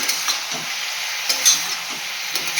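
Green chilies and nigella seeds fry in hot oil with a steady, bright sizzle and occasional soft pops, constant and close, with no talking.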